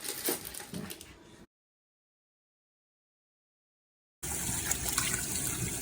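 Running tap water pours steadily while coffee-dyed Air Force 1 sneakers are rinsed out, the flow breaking off into a silent gap before resuming loud and continuous.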